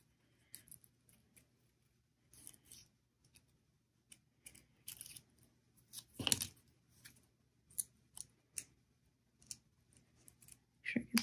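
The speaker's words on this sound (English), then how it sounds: "Line it up and then do our second cut around the edge here." Scissors snip paper around the edge of a paper rose petal for a Valentine's flower craft: sparse, quiet, crisp cutting clicks spaced irregularly, with one louder rustling cut in the middle.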